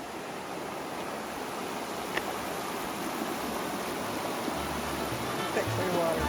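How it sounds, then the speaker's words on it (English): Sergeant Brook, a clear stream on the Appalachian Trail in Vermont, flows beneath a bridge with a constant, even rush of water, moderately quiet and unbroken, with a few faint knocks. "So that's Sergeant Brook."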